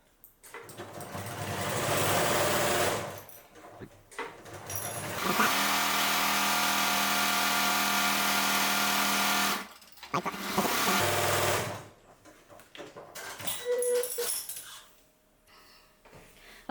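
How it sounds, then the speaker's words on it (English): A sewing machine fitted with a quilting foot stitches fabric a quarter inch from the edge, running in several loud, steady buzzing bursts separated by short pauses, with small clicks and handling noises between the runs. "I'm gonna stitch just right, like a 1/4 of an inch from the edge all the way down."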